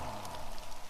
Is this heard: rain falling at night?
yes